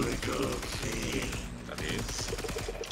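Rapid gunfire in the shooter video game Warframe, a dense continuous barrage of shots mixed with game effects and music, with a voice talking over parts of it.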